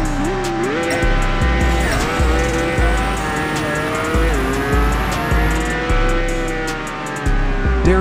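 A racing car in the Apex Racer game screams along at high revs, its engine whining up and down through repeated gear shifts, with thumping impacts and brief tire squeals along the way.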